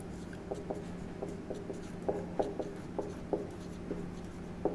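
Pen or pencil writing a biology definition by hand on paper, a steady faint scratching with short rhythmic strokes and small taps, close and quiet with no talking.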